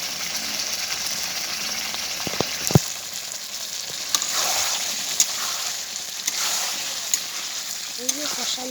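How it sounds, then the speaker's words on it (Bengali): Meat frying in a pan keeps up a steady hiss of sizzling oil, broken by sharp clicks and knocks of utensils at intervals, and a voice talks faintly underneath. "ভাজি করছি, পরে ঝোল দিব।"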